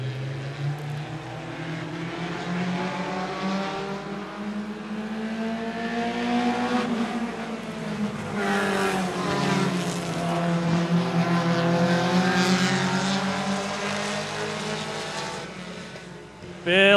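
Short track race cars on a super short track roar past together, with engine tones rising and falling in pitch as the pack sweeps by, loud and close throughout.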